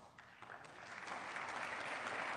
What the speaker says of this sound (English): Hesitant applause.